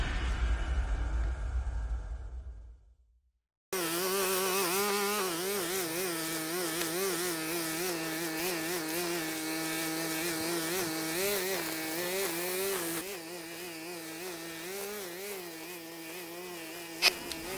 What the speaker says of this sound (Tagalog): kaya naisipan kong bumili ng grass cutter